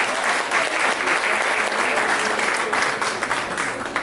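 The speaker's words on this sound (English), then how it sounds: "Please clap for them, please." Wedding guests clap in a dense, close burst of applause that holds steady throughout, with no voices over it.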